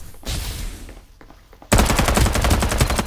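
Rapid automatic gunfire from the Farlight 84 video game, a softer burst first then a loud, dense stream of shots from about the midpoint to the end, close and continuous with game effects layered in.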